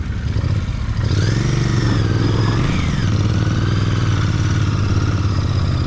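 Royal Enfield Bear 650 motorcycle on an off-road trail, its engine a loud, steady close rumble with rising and falling rev sweeps over the whole stretch.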